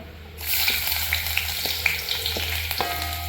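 Ginger dropped into hot coconut oil where mustard seeds have already popped, giving a steady close sizzle with scattered small crackles and pops, no talking.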